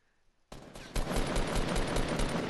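Rapid automatic gunfire in a Fortnite squads match, a sudden dense burst of shots that starts after a brief quiet and keeps hammering steadily and loudly, with no voices over it.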